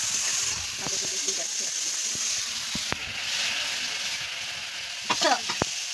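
Onions fry in oil with sugar, cardamom, cinnamon and cloves for a chicken curry, making a steady sizzling hiss with scattered clinks and a short burst of scraping near the end.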